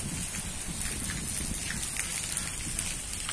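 Steady rain pours down during a power outage, a dense, even hiss of drops that stays constant from start to finish with no voices.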